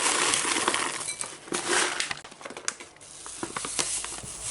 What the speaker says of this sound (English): So I simply pour my oats into the bowl.